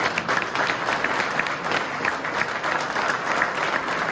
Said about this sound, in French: Allez-y, applaudissez encore nos agents.